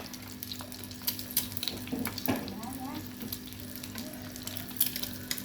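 An egg frying in a pan gives a soft, low sizzle with scattered clinks and light splashy touches, fairly quiet and without speech.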